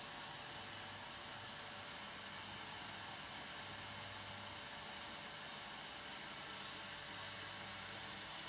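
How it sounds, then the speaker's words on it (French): Steady broadband roar of a vacuum cleaner running continuously at moderate distance, with a faint whine on top and no voices. "Lorsque l'aspirateur est en marche"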